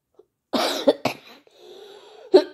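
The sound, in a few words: woman coughing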